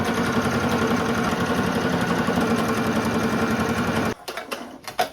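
A sewing machine hems the back of a top, a close, loud, steady whirring run of rapid stitching that stops after about four seconds, followed by a few light clicks.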